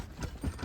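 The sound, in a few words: bullock cart hooves clip-clopping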